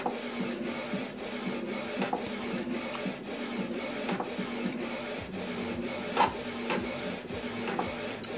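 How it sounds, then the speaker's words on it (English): A Canon TS3551i inkjet printer runs continuously, its print head shuttling back and forth in a regular rhythm with steady mechanical whirring and clicks, close and fairly loud. "Okay, you can see it's printing out."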